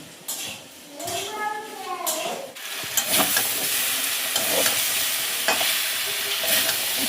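Home-grown rooftop vegetables cook in a pan: a steady close sizzle and frying hiss with stirring and utensil scrapes on the pan, after a brief voice at the start.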